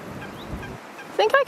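A moorhen gives a short burst of honking calls that vary slightly in pitch, loud and fairly close, following a stretch of low outdoor background noise.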